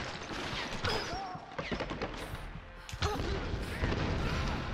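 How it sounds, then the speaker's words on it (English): Gunfire in Tomb Raider (2013) crackles in scattered bursts amid booms and clatter, a busy, mid-distance firefight layer. "Is there another guy over here shooting me?"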